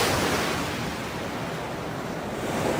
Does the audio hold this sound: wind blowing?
yes